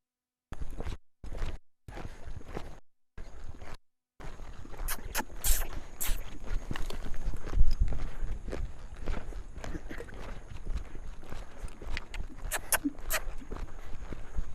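Hoofbeats of a horse being ridden around an arena during a crossfiring schooling session, steady rhythmic footfalls near the microphone with brief gaps at the start, then continuous movement and scuffing.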